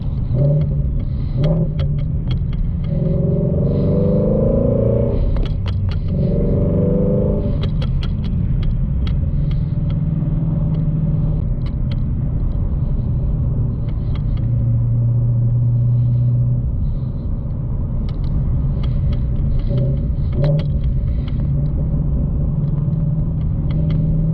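A Shelby Mustang GT350 cruises smoothly in fifth gear, its engine a steady, close, low rumble heard from inside the cabin, with a brief swell of revving early on and a continuous road drone throughout.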